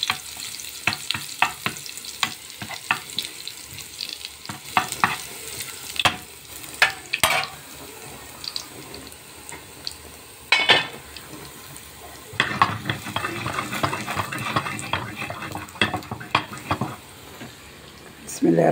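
Garlic frying and stirred in Egyptian ghee in a home kitchen pan for a lentil dish, a steady close sizzle broken by scraping stirs and clinks of a utensil against the pan.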